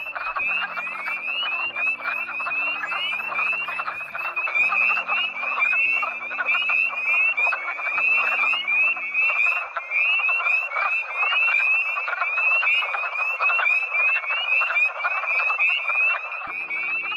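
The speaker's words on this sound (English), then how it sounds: "frogs actually start to drown out the spring peepers" Male wood frogs call in a spring breeding pond as a dense, continuous chorus of clucking croaks. A higher, steady peeping of spring peepers fills the background, with low tonal hums coming and going beneath it.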